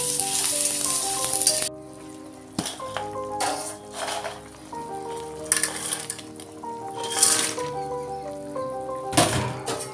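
Bora fritters frying in a pan in a home kitchen, a continuous hiss of hot oil with intermittent clinks and knocks of a utensil against the pan, close and unaccompanied by speech.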